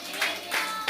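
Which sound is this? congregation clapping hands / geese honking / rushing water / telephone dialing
congregation clapping hands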